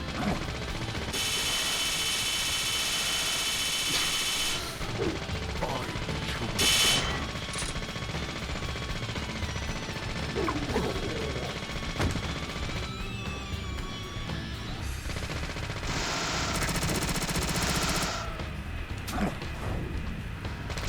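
Gunfire in the horror game Deadly Premonition, rapid bursts of shots with sharp cracks and metallic clanks over a constant loud game backdrop, repeating through the scene.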